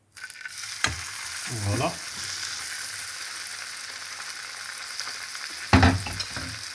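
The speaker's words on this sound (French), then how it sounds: "maintenant nous allons mettre la viande dans la poêle" Steak searing in a hot frying pan for a pepper-cream mushroom dish: a steady close sizzle with two louder bursts as meat hits the pan, and a brief word spoken near the start.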